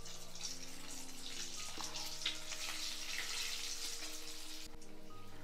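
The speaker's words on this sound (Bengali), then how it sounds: "চপটাকে লাল লাল করে ভাজতে হবে কম আঁচে।" A bhetki fish cutlet is deep-fried in oil on low heat, giving a faint, steady sizzle under quiet music.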